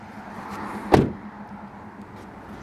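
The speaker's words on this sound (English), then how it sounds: "I'll open that hood real quick and show you the engine" A sharp metallic clunk as the hood of a 2012 Toyota Camry LE is released, followed by quieter rattles and a second click near the end, close up and without talk.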